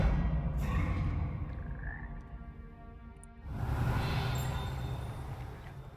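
Frog croaking inside the video game Hogwarts Legacy, with low rumbling game ambience that dips midway and then swells again.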